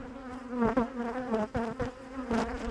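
Honeybees from a strong colony buzzing at an opened beehive, a close, wavering drone with pitch rising and falling as bees fly past, steady and fairly quiet, with a few soft knocks and no talk.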